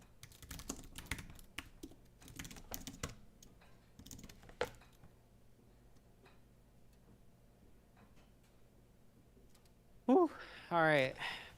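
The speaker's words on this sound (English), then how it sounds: "That was a lot of typing." Rapid, close clicking of a computer keyboard during a Bash coding session, in dense bursts that thin out into sparse taps, with a short voice at the end.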